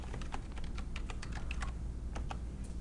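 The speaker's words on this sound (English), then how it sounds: "type in a name for your new selection set" Quick clicking keystrokes on a computer keyboard as a name is typed in, a short irregular run of light taps, close but faint over a low steady hum.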